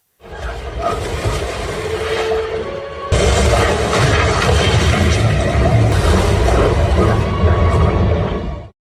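A flare gun fires at sharks out on the open sea. It makes a loud, sustained roaring whoosh that jumps in intensity partway through, then cuts off abruptly. No voices.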